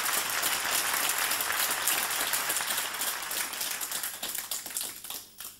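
A concert audience applauds a tribute to a singer with dense, steady clapping that holds strong for several seconds, then thins out and fades near the end.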